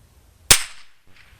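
A single rifle shot fired while sighting in a rifle topped with a 3-power prismatic optic, a sharp close crack with a short decaying tail, then quiet with faint rustling afterward.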